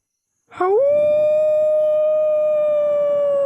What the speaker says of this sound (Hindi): कहीं दूर कुत्ता या सियार रोया